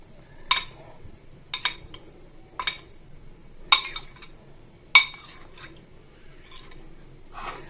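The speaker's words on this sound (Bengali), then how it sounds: "আমি চামচ দিয়ে যেন ভিতরের গুলাসা একটু চুবে যায় সেই জন্য দুধটা দিয়ে দিচ্ছি।" A spoon clinks against a dish while milk is spooned over bread soaking in milk, giving about six sharp, separate taps spread over several quiet seconds, close but soft.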